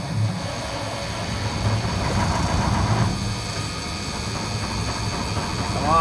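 An old 1973 Detroit 8V71 mechanical diesel snowplow engine churns and rumbles steadily during a cold start, a loud, rough mechanical drone with a faint voice in the background.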